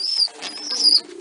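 Pigeons in a breeding loft give a short, soft cooing call close by, with no other sounds around it.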